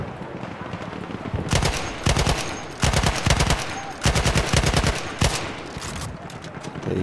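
A BAR support machine gun fires in Battlefield 1, several loud rapid bursts separated by short pauses, close and dominant.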